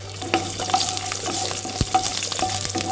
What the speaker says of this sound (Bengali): কড়াইতে অল্প করে সর্ষের তেল দিয়ে দিচ্ছি, কয়েকটা রসুন দিয়ে দিচ্ছি